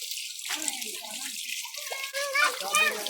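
Water runs steadily from a tap or spout on a family mountain hike, a continuous splashing flow with children's voices chattering over it.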